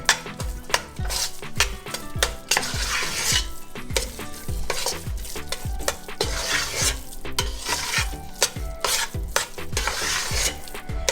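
Nutmeg being stirred into thick mohanthal in a pan, steady repeated scraping strokes with a soft sizzle and light utensil clinks, close and continuous with no talking.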